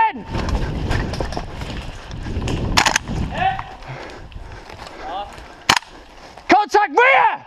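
Airsoft gunfire during a flag-bearer skirmish game comes as sharp, scattered pops and short bursts, some near and some farther off, mixed with shouted voices and movement.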